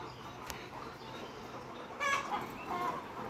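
Layer hens in a large poultry shed holding thousands of birds, faint distant clucking and squawks over a steady background hiss.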